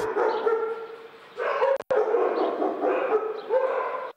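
Several rescued street dogs bark repeatedly in short bursts, close by, with yips and whimpers mixed in and a brief gap midway.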